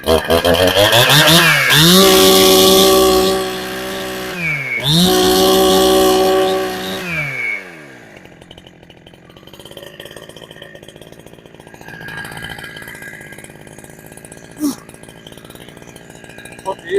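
A Husqvarna 372XP chainsaw fitted with a genuine carburetor revs loudly, with two sharp rising-and-falling throttle bursts, then drops to a rougher, quieter idle with scattered clatter.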